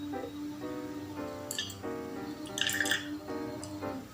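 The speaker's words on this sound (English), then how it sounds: "So I'm going to pour it inside my container here." Homemade hand sanitizer, about 100 ml, poured from one vessel into a small container, giving a steady close trickle with liquid drips and a few brief splashy bursts, no voices.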